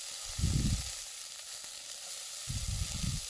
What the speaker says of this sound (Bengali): দিয়ে এটাকে একটু হালকা পরিমাণে ভেজে নেব।